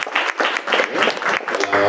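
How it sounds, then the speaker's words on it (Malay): Short round of audience clapping at a talk on supplements, a quick pulsing series of claps with voices mixed in. "Okey, kita tepukan untuk yang makan dapat."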